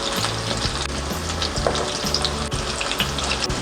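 Tortang repolyo, a cabbage omelette, sizzles steadily in a hot pan, a close, continuous frying crackle with rhythmic scraping or stirring strokes repeating every half second or so.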